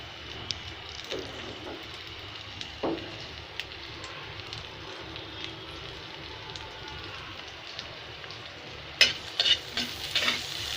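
Chopped onion, garlic and torn dried chilies fry in hot oil with a steady soft sizzle, and a few sharp stirring clinks and louder spatters come near the end.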